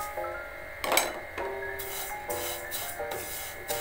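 Roasted vermicelli being stirred in a pan with sugar, dry scraping and rubbing strokes repeating in uneven bursts, close and fairly loud with no talking.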